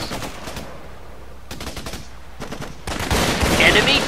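Rapid machine-gun bursts from the Raven Squad video game on Xbox 360, dense broadband firing in irregular stretches that grow louder and more continuous toward the end, with no one speaking.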